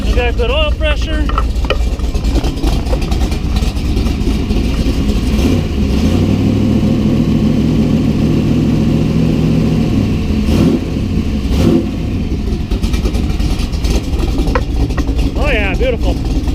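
A Classic Roadsters Cobra engine idles steadily after an oil change, a low rumbling throb with a brief rev in the middle, and someone talks over it now and then.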